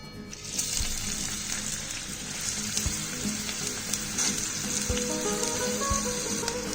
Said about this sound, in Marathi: आता ह्या तेलामध्ये सगळ्यात आधी कांदा फ्राय करून घ्यायचा आहे आणि त्याबरोबर बटाटे पण फ्राय करायचे आहेत.